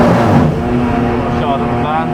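A BMW race car engine drones steadily from inside the cockpit while it drives on the Nürburgring, a loud continuous roar under someone talking.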